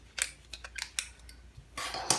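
Scissors snip bookbinding thread on a stab-bound notebook in a series of short, crisp cuts, close and fairly quiet, followed by a louder rustle of handling at the end.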